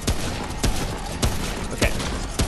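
Rapid gunfire in the video game Remnant from the Ashes, four loud sharp shots spaced evenly about half a second apart over a dense background of game noise.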